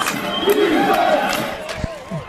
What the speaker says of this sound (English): As the crowd's on their feet, hoping for a stop here.